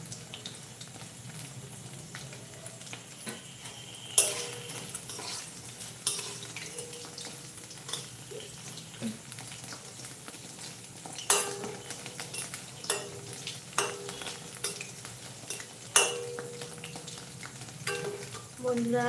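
Pakoras fry in a pan at home with a steady low sizzle, punctuated by scraping and clinking of a spoon and utensils stirring and lifting them.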